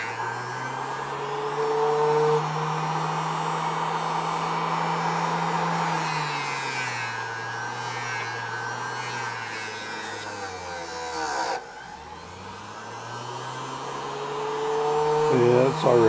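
A silver coin ring is buffed and polished on a motorized buffing wheel, giving a continuous loud whirring hum whose pitch dips and rises as pressure changes, with a brief break near the end.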